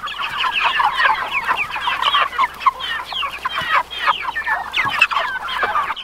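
Backyard chickens clucking and chattering together in a busy, continuous flock, close and moderately loud, with no talk.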